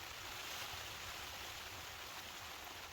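Heavy rain pours on a hot tent during wild camping in Scotland, a dense constant hiss of drops, fairly faint and unbroken with no voices.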